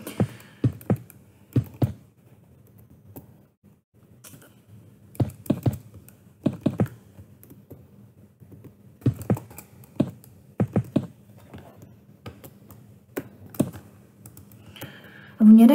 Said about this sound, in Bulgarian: Сори, че клавиатурата е шумна